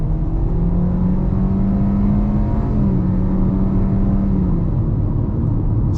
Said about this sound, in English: I'm going to floor it here and we'll see what happens.